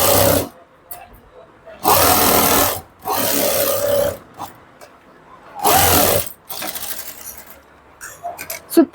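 A sewing machine stitches a hook strip onto blouse fabric in loud, steady bursts of rapid mechanical chatter separated by short pauses and small handling clicks, close up with no talk.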